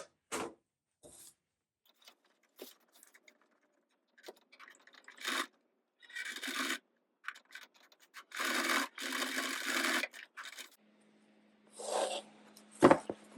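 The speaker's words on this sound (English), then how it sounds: "I got to tack this zipper in here and trim this back." A sewing machine tacking a zipper in place, running in short, rasping bursts of stitching separated by quiet pauses, close and dry.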